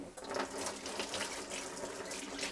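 A kitchen tap runs as green onions (black scallions) are rinsed under it, giving a continuous, moderately loud splashing water stream with small irregular spatters and no talk.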